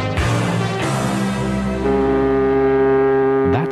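Deep, sustained horn blast of the QE2 ocean liner, loud and steady for several seconds with rich low harmonics, heard alone in a radio advert.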